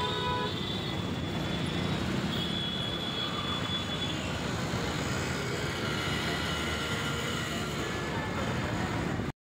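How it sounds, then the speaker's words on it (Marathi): Dense road traffic in Wagholi, with a continuous roar of engines and a few car horns sounding above it, heard nearby from the road. The traffic cuts off abruptly at the end. "हे बघा वाघोलीमध्ये किती ट्रॅफिक आहे, भरपूर ट्रॅफिक"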